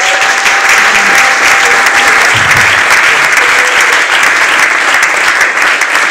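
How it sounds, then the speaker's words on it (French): Loud, sustained applause from an awards-ceremony audience honouring an honoree, dense and continuous clapping throughout with a faint hum of voices beneath. "Est-ce qu'on peut applaudir bien fort pour notre icône?"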